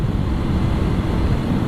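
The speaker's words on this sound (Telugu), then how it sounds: "గాలి కూడా ఫుల్గా వస్తుంది" Loud, steady wind roar buffeting the microphone while riding a KTM Duke 200 motorcycle on an open road, a dense continuous rush with low-end rumble and no talking.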